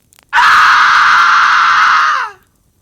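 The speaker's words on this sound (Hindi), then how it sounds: "मेरे पीछे किसी के जोर से चीखने की आवाज आई।" A single loud, sustained scream rings out for about two seconds, shrill and piercing, then cuts off abruptly into silence.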